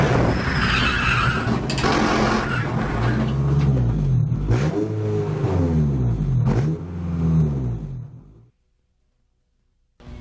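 Race cars in the PlayStation game Gran Turismo 2 rev hard and skid, with engine notes climbing and falling through repeated gear changes and tire squeals, loud and close, then the sound cuts to near silence at the end.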